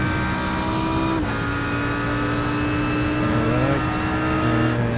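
A race car engine from the iRacing video game, loud and steady with harmonic whine, shifting pitch as it revs up and down, with a brief dip and shift around a gear change, no voices.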